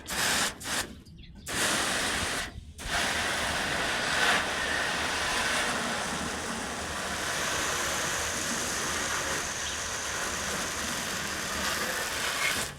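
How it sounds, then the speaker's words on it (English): A steady hiss of warm water spraying from a garden hose onto a 1954 Farmall 300 tractor runs continuously, close and fairly loud, with a few brief pauses early on. "we're just gonna give the 300 just a rinse with some warm water just straight out of the hose"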